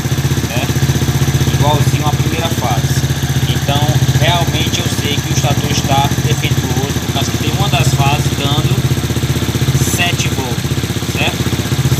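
A Shineray XY 110 motorcycle engine idles steadily up close during battery charging tests on a bike that does not recharge its battery, a continuous loud putter with someone talking over it throughout.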